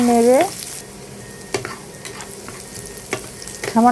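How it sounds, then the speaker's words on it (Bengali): Chopped onion fries lightly in oil in a pan, a steady soft sizzle with a few sharp stirring clicks, and brief squeaky tones at the start and end. "পেঁয়াজ কুচি দিয়েছি, হালকা একটু ভেজে নেব যাতে লাল না হয়ে যায়"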